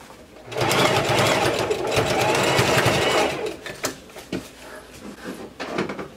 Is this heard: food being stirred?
no